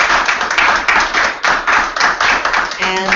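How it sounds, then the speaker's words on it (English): An audience at a workplace-happiness talk claps to thank the author Valerie, a dense, steady round of hand claps, loud and close, ending as a voice begins. "we want to thank Valerie with a big clap"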